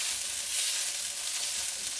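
Onion and tomato sizzle in a pan for a Filipino chicken adobo, a dense, bright frying hiss that stays steady and close throughout the short moment, with no talking.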